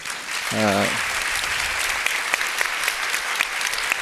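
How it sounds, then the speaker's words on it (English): Audience applause for panel speakers at the close of a discussion on algorithmic governance and the Swedish model, a steady dense clapping throughout, with a brief voice heard near the start. "And a warm applause."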